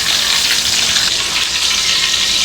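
Lempo frying hard in a pan, a loud, dense and steady sizzle that carries on without pause, close up and with no voices over it.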